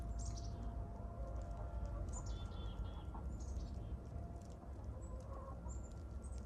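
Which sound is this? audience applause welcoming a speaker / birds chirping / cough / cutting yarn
birds chirping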